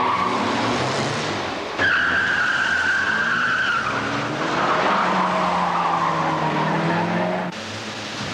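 Race cars roar and skid with sustained squealing tires and steady engine drone, loud and continuous throughout, with abrupt shifts in pitch as the cars slide.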